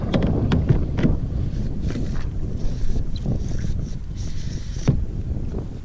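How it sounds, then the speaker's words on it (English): Wind rushes steadily across the microphone outdoors on open water, with a few faint knocks and splashes underneath. "we got some wind on us"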